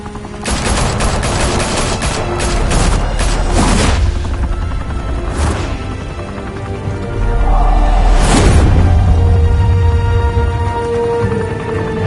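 Gunfire in a Batman video game: dense, rapid bursts of automatic fire open loudly, followed by scattered single heavy shots and booms over a low rumble, with no talking.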